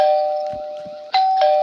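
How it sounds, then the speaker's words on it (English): A loud electronic doorbell chime in the video game Roblox rings in two sustained tones, steady and clear, with no talking. "I'm gonna ring the doorbell."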